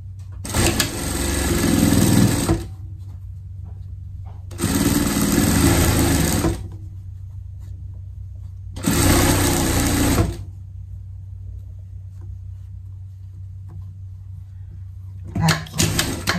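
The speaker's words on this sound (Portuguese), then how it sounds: "Costura, costura." A sewing machine sews a Nordic-style jacket in three loud bursts of a couple of seconds each, separated by quieter pauses with a low hum and a brief restart at the end.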